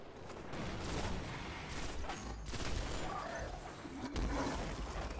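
Gunfire in the video game Destiny during a Challenge of the Elders run, a dense, continuous wash of distant-sounding shots and mechanical rumble, fairly quiet and steady throughout.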